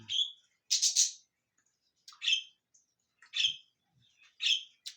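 A pet bird gives short squawking chirps indoors, about five bright calls spaced roughly a second apart, fairly close and alone against a quiet background.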